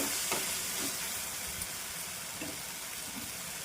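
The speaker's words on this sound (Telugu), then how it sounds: "టమాటాలు అయితే వేగిపోయినాయండి, బాగాను పచ్చివాసన పోయింది" Tomatoes fry in a pan for a paneer curry, a continuous close sizzle with soft stirring scrapes mixed in, steady and unbroken with no talking.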